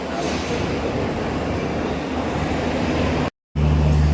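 A train pulls into a railway station on the route toward Bhavnagar, giving a loud, steady rumble of wheels and carriages that fills the whole stretch, with a brief dropout near the end.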